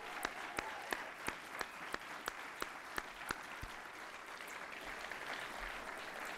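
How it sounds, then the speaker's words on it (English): Audience at a NASA agency honor awards ceremony applauding its honorees, a steady wash of clapping with a few sharp, evenly spaced claps standing out near the front. "let's give all of our distinguished honorees another round of well-deserved applause"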